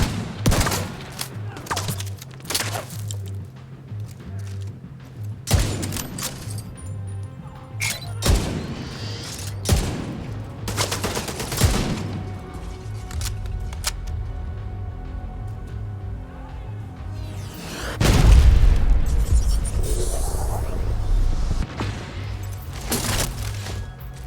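A deployed turret fires in The Division 2, with bursts of rapid gunfire and heavy booms repeating across the scene, loud and close, with a denser barrage of explosions near the end.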